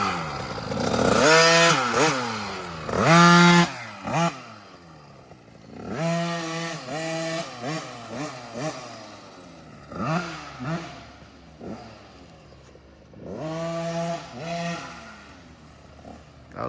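A TC50cc dirt bike engine revs hard and wide open on a backyard track, loud repeated rising and falling two-stroke bursts in several pulls with brief lulls between, up close.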